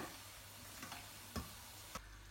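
Elephant foot yam chips fry in hot oil, a steady soft sizzle running throughout with a few brief clinks of stirring breaking through.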